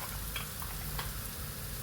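Ground masala paste sizzles and fries in a pan with browned onions for green chilli chicken curry, a soft steady crackle with a couple of faint stirring clicks.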